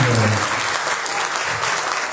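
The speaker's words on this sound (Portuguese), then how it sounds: "um aplauso ao Senhor" A church congregation at an evening worship service bursts into applause, loud and dense clapping filling the room throughout, with a voice briefly heard at the start.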